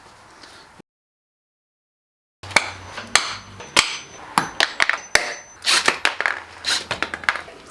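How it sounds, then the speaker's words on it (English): Sharp, repeated hammer blows drive nails into wood in an irregular rhythm, close and loud, after a brief silence. "Not an easy feat with a hammer and nails."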